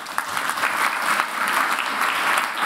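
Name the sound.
audience applause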